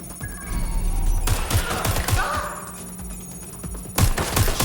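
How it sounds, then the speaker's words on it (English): Bursts of automatic gunfire and single shots crack close by in a Watch Dogs Legion firefight, rapid volleys with impacts and thuds in between, loud and irregular. "I'm getting shot at here!"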